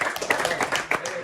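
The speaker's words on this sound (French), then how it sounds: "Je pense qu'on peut vous applaudir" A small audience at a hypnosis show claps in a brief, uneven burst with voices chattering over it.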